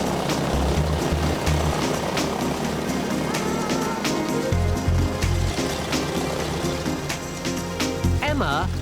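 The engine of a Boeing Stearman biplane gives a loud, continuous propeller drone that fills the clip, with people talking over it.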